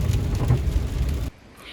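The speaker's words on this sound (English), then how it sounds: "and it's raining." Nighttime rain in Johannesburg gives a dense, loud rushing patter with low rumbling that stops abruptly after about a second, leaving quieter background.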